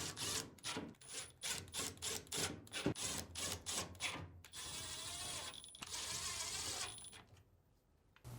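Screws are driven back into the front panel of a Samsung dryer, giving close rhythmic ratcheting clicks from a hand tool, then a steadier whirring stretch with metallic contact and a brief quiet gap.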